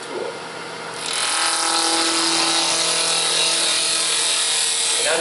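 A bowl gouge with a 40/40 grind cuts into wood turning on a lathe, starting with a quiet hum and then a loud, steady, close hiss that lasts to the end.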